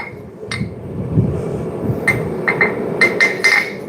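A four-pound forging hammer strikes metal in a smithy, several sharp ringing blows at uneven intervals over a steady low background rumble, fairly close and moderately loud.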